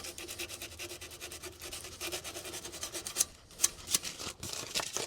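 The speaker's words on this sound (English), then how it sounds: "I'm just going to sand the side of this knife switch." Sandpaper rubs back and forth across the side of a metal knife switch on a farm recovery truck project, a steady close rasping with a few sharper scrapes near the end.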